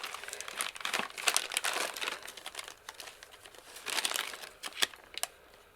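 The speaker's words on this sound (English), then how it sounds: "Let me cut a sample piece." Sleeve material is cut into a sample piece, producing close, crisp crinkling and rustling in uneven bursts, with small snips and crackles scattered through.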